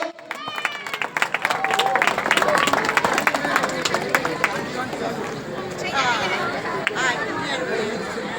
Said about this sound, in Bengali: জোরে একটা হাততালি হোক।